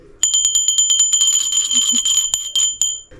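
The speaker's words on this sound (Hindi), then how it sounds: "अभी रात को देखिए 9 बजे रात को घंटी बजा रहा है" A small prayer bell rings rapidly and repeatedly at night, clear and close, its bright strikes coming in quick uneven bursts with a lingering metallic ring.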